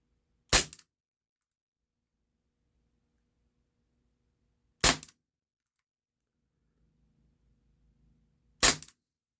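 A Walther P38 4.5mm BB pistol fires three single shots, each a sharp, close crack spaced about four seconds apart, with near silence between them.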